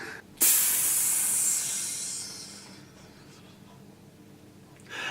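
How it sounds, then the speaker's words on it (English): Steam jets out in a sudden loud hiss that holds steady for over a second, then fades to a softer, lingering spray before a second hiss begins at the end. "That's supposed to be steam."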